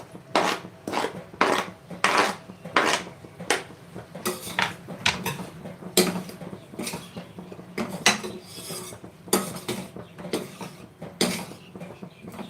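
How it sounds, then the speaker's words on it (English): Tomatoes being added to a pan while cooking hara chana ghoogni, a green chickpea dish, with steady clinks and scrapes of a utensil against the pan in an irregular rhythm, no talking. "So now I'll add the tomatoes."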